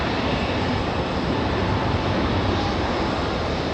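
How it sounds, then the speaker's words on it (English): A JetBlue Airbus A220 jet at Raleigh Durham airport, a steady broad roar of jet engines heard at a distance, unbroken and without voices. "There's the JetBlue A220."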